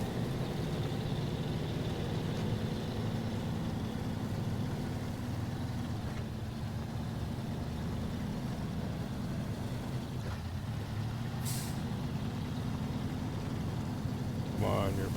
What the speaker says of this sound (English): Come on, you're a big strong truck. You can climb up this hill.